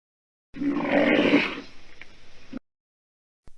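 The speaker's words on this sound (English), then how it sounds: "A rhino." Rhino vocalizing: a loud, rough roaring bellow that swells and then tapers into a series of short, pulsing grunts, heard alone at close range.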